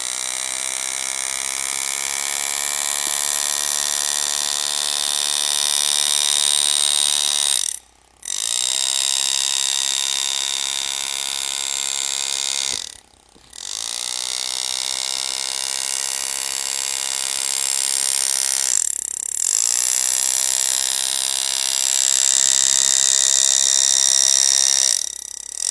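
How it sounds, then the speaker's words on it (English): Steady metallic whine and grinding of a pneumatic engraving tool cutting a bright-cut scroll into metal, running continuously with three brief pauses where the cut stops and restarts, loud and close with no talk. "Now we're going to cut this scroll"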